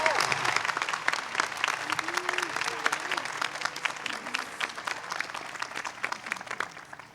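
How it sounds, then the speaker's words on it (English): Commencement audience applauding a graduation speaker, sustained crowd clapping with scattered loud claps, slowly thinning toward the end; faint voices and whoops mix in. "How about another round of applause for Ellie Hyman?"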